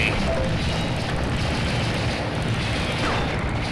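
Fireworks bursting in the video game Blood and Bacon, a dense, continuous roar of booms and crackles filling the whole stretch at steady loudness.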